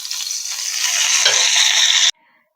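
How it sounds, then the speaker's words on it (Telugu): Tempering spices sizzling in hot oil for jeera rice while being stirred, a loud steady sizzle that cuts off abruptly. "పోపు అంతా వేసేస్తున్నా."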